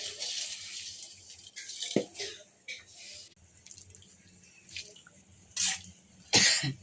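Water splashes and hisses into a hot pan for cooking vegetable semiya in several short bursts, close by, with a sharp clink and quieter sizzling between pours.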